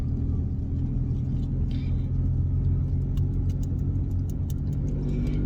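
A car engine hums steadily from inside the vehicle while riding around town, with a constant low rumble and a few faint rattles and clicks above it.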